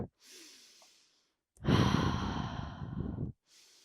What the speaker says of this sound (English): Take a couple massive breaths.